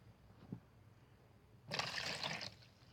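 A drink being poured from a heat-changing mug, a short liquid rush lasting under a second after a faint tap, fairly close and alone.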